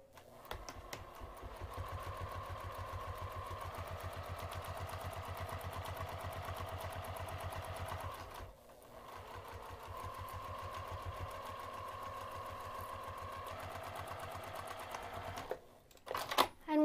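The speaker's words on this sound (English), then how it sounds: "we're going to sew using a half inch seam allowance, and we're going to stop sewing when we reach the line" A sewing machine runs close and steady, stitching a half-inch seam with a fast mechanical rhythm, pausing briefly midway before stitching again and stopping with a few clunks.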